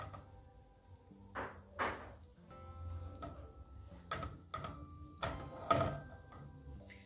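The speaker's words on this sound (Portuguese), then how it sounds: "E já vou colocar 2 dentinhos de alho para fritar aqui nessa margarina." Two cloves of garlic fry in margarine in a pan, giving a faint, quiet sizzle broken by several soft knocks and clinks of utensils and cookware.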